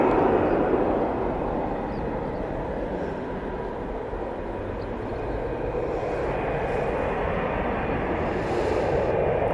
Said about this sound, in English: It's now spooling up.